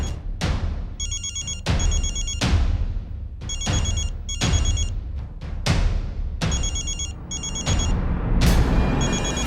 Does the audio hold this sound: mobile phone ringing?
yes